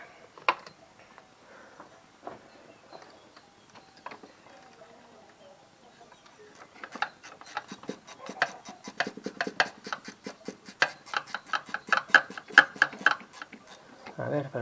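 A 10 mm wrench tightening bolts on the timing assembly of a Mitsubishi L200 Triton: a long run of quick, faint ratcheting clicks in the second half, with sparse scraping before it and someone speaking Spanish.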